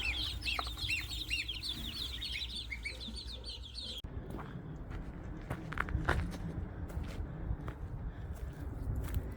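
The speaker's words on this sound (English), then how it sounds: "We got a Toulouse goose and a buff goose over there." A Toulouse goose and a buff goose calling outdoors, first amid busy high chirping birdsong, then with irregular clucking, honking calls at moderate distance and no talking.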